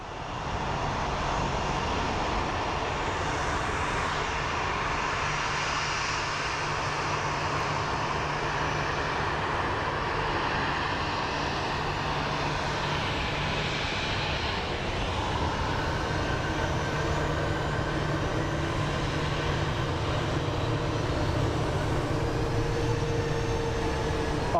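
A Southwest airliner taxis at Phoenix Sky Harbor Airport, its engines giving a steady, broad roar with a low hum that holds for the whole stretch and swells slightly.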